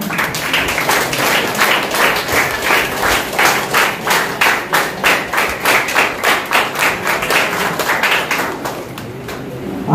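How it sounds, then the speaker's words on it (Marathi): An audience at a student felicitation ceremony claps rhythmically and loudly, with strong regular beats close by that fade slightly at the end. "मान्यवरांसाठी आणि जोरदार टाळ्या."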